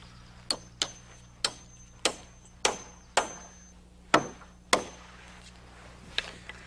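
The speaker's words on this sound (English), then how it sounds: "To do that, we nail in a permanent sway brace." A hammer drives nails into a permanent sway brace on the level roof ridge of a wood-frame house. About ten sharp, close blows land at an uneven pace, with no talk.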